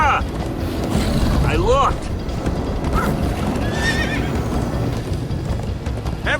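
Horses in the Minecraft Story Mode video game whinny repeatedly over a steady clip-clop of galloping hooves, loud and close, with several neighs rising and falling in quick succession.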